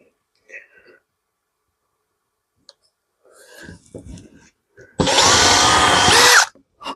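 Power drill boring mounting holes for a homemade magnetic key hook organizer, a loud close whir lasting about a second and a half after some quiet shuffling and soft voice sounds.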